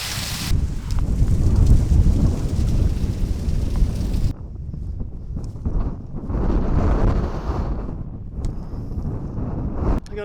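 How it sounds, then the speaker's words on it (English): Strong wind roars and buffets the microphone in a mountain valley, loud and continuous with gusts rising and easing, and no talking. "is this valley ever not windy?"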